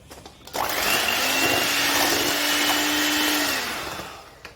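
An electric beater whirs steadily through cake batter for about four seconds, a loud close motor drone that starts abruptly and tapers off at the end, with no talking.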